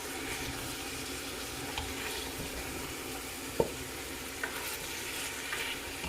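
Oxtail sizzles and fries in a pot with occasional stirring, a steady close hiss and crackle with a few sharp clinks, no voices.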